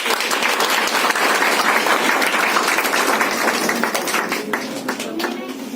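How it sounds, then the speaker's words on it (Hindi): An audience at an award ceremony claps in a dense burst that stays steady and loud, then thins and fades toward the end, with some voices mixed in underneath. "ताली स्वागत।"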